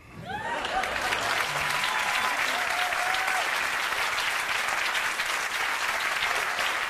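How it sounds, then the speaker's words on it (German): Audience applause at a cabaret show: dense, even clapping that starts quickly and holds steady throughout, with a brief whistle near the start. "Euer Applaus."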